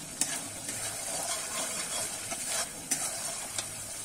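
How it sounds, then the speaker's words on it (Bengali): Masala fries in oil in a pan until the oil separates, making a gentle, continuous sizzle and hiss. Occasional sharp stirring clicks and scrapes of the spoon sound against the pan. "এইভাবে কিন্তু একটু তেলটা যতক্ষণ মশলা থেকে না ছেড়ে দেবে আমি কিন্তু আর একটু কষিয়ে নেব।"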